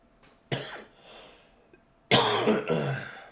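A person coughs sharply, pauses, then gives a harsher, longer burst of coughing and throat clearing, close and loud in a quiet room.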